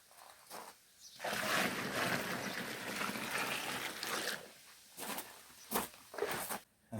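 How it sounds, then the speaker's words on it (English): Water gushes steadily into a bucket for about three seconds, then stops, followed by a few scattered splashes and knocks nearby, while mixing a wall-cleaning solution. "I'll add another 10 litres of water."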